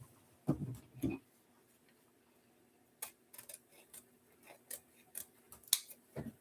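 Scissors snip a wreath bow's ribbon tails to length on a spring bunny grapevine wreath, giving two crisp close cuts, a pause, then a run of lighter clicks and snips in a quiet room.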